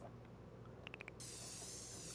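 A can of spray paint adds colour to the rocks of a snowy mountain painting: a few quick rattling clicks, then a steady, close hiss of spray that runs to the end.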